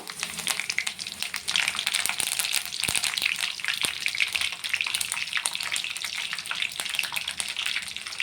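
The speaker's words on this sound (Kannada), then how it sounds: "ಸ್ವಲ್ಪ ಸಾಸಿವೆ ಹಾಕೊಳ್ಳಿ ಪಟ ಅಂತ ಸಿಡಿಬೇಕು" Mustard seeds crackling and popping in hot oil for mango rice, a dense, bright sputter of rapid pops and sizzling that stays loud and steady throughout, with no talking.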